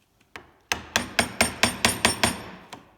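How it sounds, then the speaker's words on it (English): A chisel struck with a mallet to chop waste wood for pins: a single light tap, then a steady series of about eight sharp, ringing blows, close and loud, followed by one last tap. "to get the chisel to go down there, you've got to hold the chisel now at an angle because it's getting wider"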